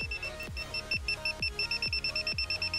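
A Lago CP12S8W parking sensor fitted to a Toyota Avensis T25 gives a steady run of close, clear beeps, slow at first and then quickening into rapid pulses.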